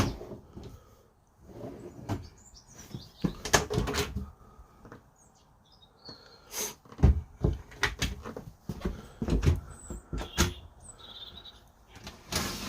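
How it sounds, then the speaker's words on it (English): Drawers and cupboards open and close inside a 2022 Swift Conqueror 480 caravan, a string of close, sharp slides and knocks with quiet pauses between them. "Drawer opening."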